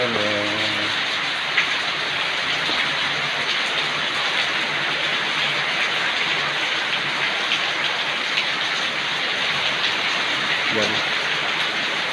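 Heavy afternoon rain driven by strong wind, a loud, dense, unbroken hiss and roar that holds steady throughout, with brief faint voices near the start and near the end.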